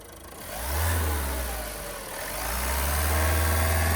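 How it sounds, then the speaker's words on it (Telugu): A car engine revs up twice, the pitch rising and falling with each press of the throttle, close and clear over a low idle. "ఎక్సలేటర్ చేద్దాం"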